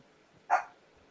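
A dog lets out a single sharp bark at a cat, one short loud yap in an otherwise quiet room, fading quickly.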